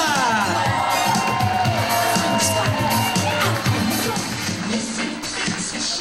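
Wedding guests cheer and whoop as a crowd at a reception, a loud, dense wall of voices and shouts with clapping mixed in, continuous for several seconds.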